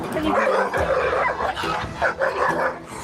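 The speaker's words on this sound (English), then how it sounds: "there's literally a dozen dogs over there" Several dogs bark and yip in short, overlapping bursts close by, where a dozen dogs are gathered during a pup rescue, with people talking over and between the barks.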